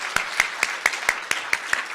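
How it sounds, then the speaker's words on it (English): Sparse claps from an audience at a panel session during a Chicago fundraising professionals' annual meeting, about eight sharp, evenly spaced hand claps in two seconds, fairly close, with no talk over them. "let's give this panel, this amazing panel, a round of applause"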